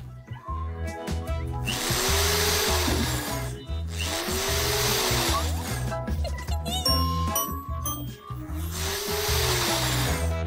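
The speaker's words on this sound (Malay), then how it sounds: "memasangnya dengan skru" A power drill drives screws into a bed frame in three loud whirring bursts, each one rising and winding down, with faint clinks and light tool handling between them.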